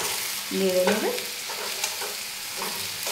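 Vegetables with leafy greens and stems stir-cooking in a pan with a splash of water, giving a soft continuous sizzle with a brief scraping stroke early on and quieter stirring after, close and without talk.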